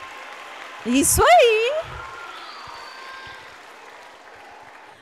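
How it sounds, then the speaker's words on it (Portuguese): Audience applause at a school reading-project opening ceremony, a steady spatter of clapping throughout, briefly covered by a loud cheering voice near the start. "Cadê as palmas, gente?"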